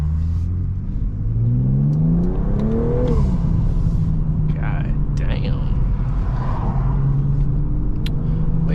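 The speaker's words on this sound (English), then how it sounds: "See if we can hear this turbo." A BMW M340i's turbocharged engine pulls hard from inside the car, a steady loud rumble rising through the gears with a shift around midway, whirring and droning continuously close up with no talking.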